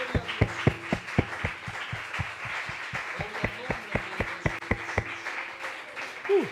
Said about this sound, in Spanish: dele una ofrenda poderosa de aplauso fuerte al Señor